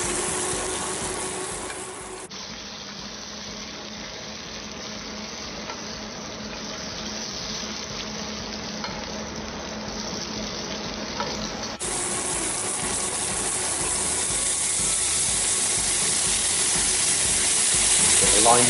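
Skin frying in butter in a pan gives a steady, hissing sizzle that holds evenly throughout, with a voice speaking over it.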